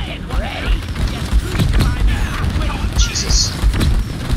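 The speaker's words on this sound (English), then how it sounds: "Explosions everywhere between the grenades and the bugs and the everything." Grenades and explosions go off amid swarming bugs in a video game battle. Dense rumbling blasts and crackling bursts layer into a continuous, chaotic barrage at steady loudness.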